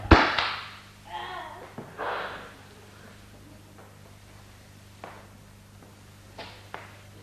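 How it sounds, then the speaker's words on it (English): Staged gunfire in a radio play: a loud sharp crack opens, then several fainter scattered pops and bangs follow at irregular intervals over a low steady hum. "Okay, fire at will."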